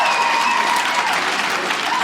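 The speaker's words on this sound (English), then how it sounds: "by round of applause, I want to say how many girls agree with my girl" At a stand-up comedy show, an audience breaks into loud, dense applause that holds steady and close throughout, with a faint murmur of crowd voices mixed in.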